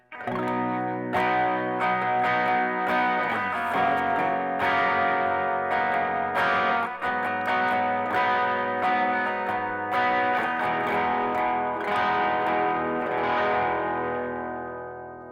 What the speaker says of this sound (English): let me play those together so you can hear those voicings